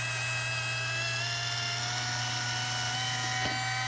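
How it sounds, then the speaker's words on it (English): A power drill bores a hole through the thin plastic center brace of an Arrma Big Rock 3S RC truck, a continuous, close, high-pitched whine that holds steady for a few seconds. "So we're going to drill a hole right in the center"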